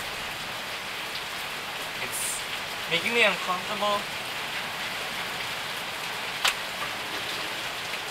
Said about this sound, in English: Please keep the rain going, but keep it quiet but still strong.